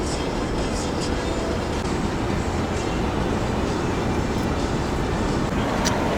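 Inside a moving car with the sunroof open, a loud, steady roar of road and wind noise fills the cabin without a break, and faint higher whooshes pass now and then.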